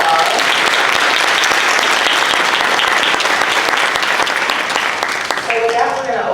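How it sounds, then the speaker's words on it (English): Loud applause fills a room at a corporate leadership summit, a dense unbroken clatter of many hands clapping together for several seconds before thinning out, with voices rising toward the end. "So let's give them a round of applause."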